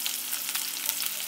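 Cauliflower florets fry in hot oil with turmeric in a kadai, a soft continuous crackle and sizzle heard close up, with no talk, over a brief moment.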